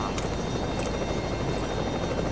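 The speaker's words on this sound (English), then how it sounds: "I can hear the helicopters in the background." Helicopter rotors drone steadily and evenly in the background of the F22 Total Air War flight simulator, a constant loud wash of noise with no voices.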